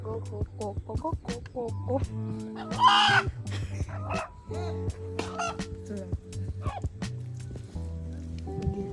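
A rooster squawks and cackles loudly in agitated bursts while being slaughtered, mixed with clucking chickens and people talking nearby.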